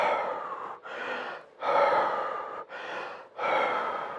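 A person imitates Kussmaul breathing, the labored heavy pattern of diabetic ketoacidosis, with deep, loud, breathy gasps alternating in and out in a steady continuous rhythm, close up and without speech.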